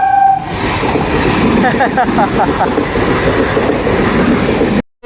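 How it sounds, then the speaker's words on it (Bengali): A train arriving from Howrah passes close by with a loud, continuous rumble, rattling wheels and brief squeals, and faint voices underneath before the sound cuts off abruptly. "আমি বলেছি হাওড়া থেকে ট্রেন আসবে, দেখো হাওড়া থেকে ট্রেন আসছে।"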